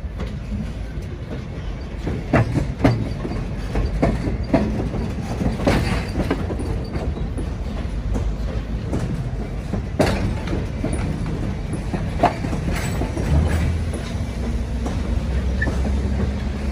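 Reading Blue Mountain and Northern passenger train passing close by, with a continuous heavy rumble and repeated wheel clicks over rail joints throughout.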